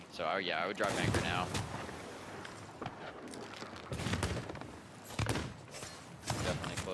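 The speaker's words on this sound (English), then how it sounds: "Yeah, they're getting fired up by three cannons already." Booming cannon fire from ships in a naval battle video game, several heavy shots rolling out at irregular intervals beneath steady conversation between players.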